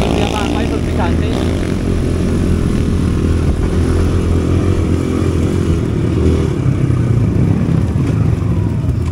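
A Kawasaki KLX 140 RF dirt bike with a stock exhaust and stock carburetor drones at a steady, loud engine note close by throughout, with a rider's voice heard over it.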